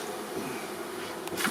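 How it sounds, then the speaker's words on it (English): A steady, dense buzz of many honeybees leaving a hive in a dead tree fills the air, droning continuously without pause at a moderate distance. "It's all bees."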